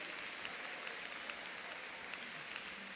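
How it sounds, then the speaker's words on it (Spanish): A congregation claps together at a 2014 Ekklesia church gathering in Panama, a dense, steady wash of applause with scattered sharper claps, sustained throughout with no pause. "Denle un aplauso al Señor"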